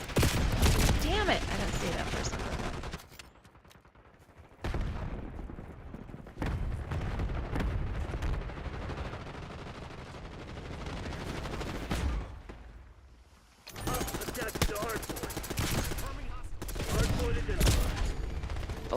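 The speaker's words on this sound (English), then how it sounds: "somebody's got like some freaking crazy saw type gun" Call of Duty Black Ops 6 multiplayer gunfire from a saw-type weapon, dense sustained automatic firing and explosions in loud stretches broken by brief lulls, with game sounds layered throughout.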